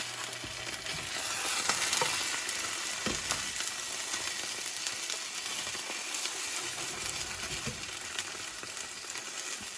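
JUST EGG plant-based egg frying in a pan, a steady soft sizzle and bubbling crackle with occasional faint stirring taps, close but quiet.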